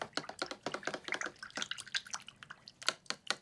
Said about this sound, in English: just rinsing my brush